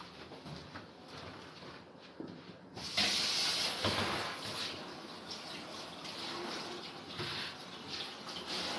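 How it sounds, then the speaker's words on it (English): Tap water hissing and spraying into a sink while a worm farm tray is rinsed, a steady rushing stream that grows louder and brighter partway through, with faint knocks of the tray and no talking. "I'm going to go rinse it in the sink real quick."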